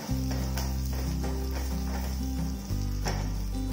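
Green chillies sautéing in a pan for a quick chutney, a loud, steady close-up sizzle and crackle running throughout, with a low hum beneath and no speech.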